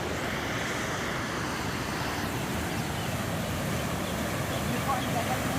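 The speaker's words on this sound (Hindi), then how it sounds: "देख लो पानी का जोश देखो।" Water rushing through a canal in rural Punjab, a steady, loud, broadband roar mixed with wind buffeting the microphone.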